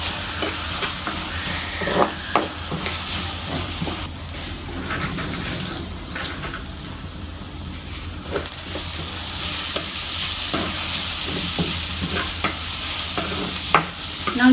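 Onions with curry leaves fry and get stirred in a pan, a steady close sizzle with periodic scraping clicks of a spoon running throughout without talk.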